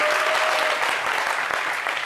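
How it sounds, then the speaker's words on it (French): An audience applauds at a showbiz event, dense steady clapping close up throughout the short stretch, with no distinct voices over it. "on les applaudit, s'il vous plaît"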